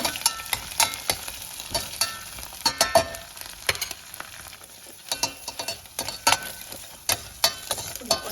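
Garlic fries in hot oil with a continuous soft sizzle, punctuated by frequent sharp clicks and knocks of a spoon stirring against the pan, close and fairly loud.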